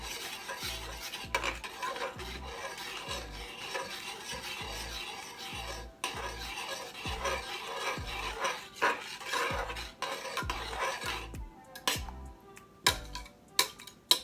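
A utensil stirs pepper into a blueberry BBQ rib sauce with rhythmic scraping and ticking strokes against the bowl, steady and close, then slowing to sharper separate taps near the end, with no talking.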